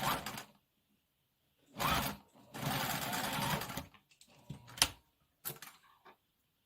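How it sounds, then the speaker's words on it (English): Sewing machine stitching the hem of a sequin prom dress in several short bursts of whirring, separated by pauses, close and fairly quiet. "I'm going to sew right sides together first"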